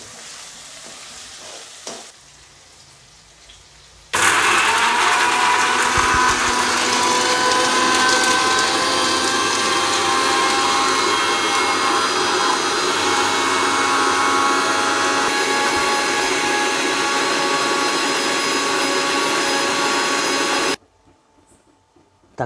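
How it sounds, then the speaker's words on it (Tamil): A mixer grinder grinds pepper, cumin and dried red chillies into a paste, running loud and steady for about sixteen seconds after a quieter lead-in, then stopping abruptly. "மிளகு ஜீரகம் காஞ்சி மிளகாய் நல்லா அரைத்து இந்த மாதிரி பேஸ்ட் மாதிரி ரெடி பண்ணி வச்சுங்க"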